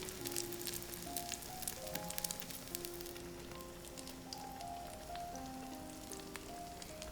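Egg-soaked white bread sizzles steadily in a buttered pan for French toast, a soft continuous crackle with faint pops, fairly quiet and alone under light background music.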